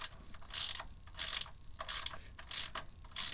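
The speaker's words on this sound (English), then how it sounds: "So I generally torque these things to the manufacturer's recommended torque." A torque wrench ratchets while tightening strut screws on a second-generation Toyota Tacoma, with five short bursts of clicking at a steady rhythm, close but fairly quiet, with no talk.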